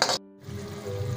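Tomato paste made from two tomatoes fries in a pan for an aloo curry, giving a steady close sizzle that starts right after a brief louder burst and a moment of near quiet.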